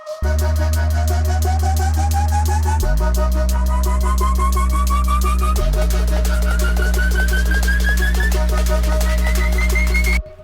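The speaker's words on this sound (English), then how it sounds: "that sounds too much like a sine wave at the end" A sustained synthesized tone with a pure, sine-like quality, layered over a steady low drone that shifts pitch twice, with a rising harmonic sweep throughout, made in Ableton.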